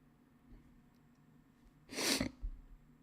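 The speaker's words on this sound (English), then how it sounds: "Why am I sneezing so much?" A single sharp sneeze bursts out against a quiet background, followed by a brief sniff.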